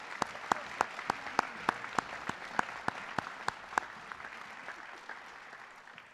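A crowd at a high school honor society induction ceremony applauds with steady clapping, plus a few sharp, evenly spaced claps standing out near the front, slowly fading toward the end.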